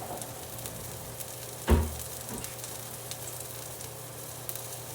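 Balsamic vinegar poured into a hot burger pan, a sudden loud hiss bursting up and settling into a steady quieter sizzle, no voices.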